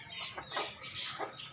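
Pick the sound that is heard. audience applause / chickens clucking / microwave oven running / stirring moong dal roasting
chickens clucking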